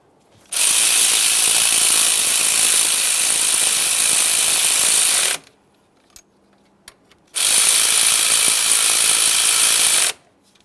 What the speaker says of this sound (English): Make sure they're both started in, and then you can tighten them up.